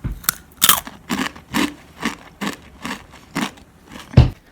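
Someone eats spicy crunchy food quickly and close up, with about nine rhythmic loud crunching bites in quick succession and no talk.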